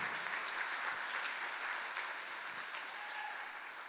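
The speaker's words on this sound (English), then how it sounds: "Let's give all 26 people a huge round of applause." An audience at a benefit auction claps in a broad, steady round of applause that holds evenly for several seconds, moderately loud with no talking over it.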